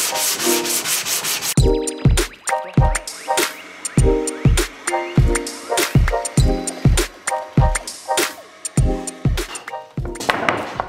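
A homemade wooden sanding block worked back and forth over wood in a joinery workshop: loud, close, rhythmic rasping strokes about twice per second, continuing steadily with no talk.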